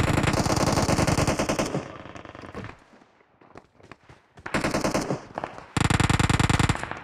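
Automatic weapons fire in a shooting video game, loud rapid bursts that drop to scattered single shots before two more sustained volleys, with no talking.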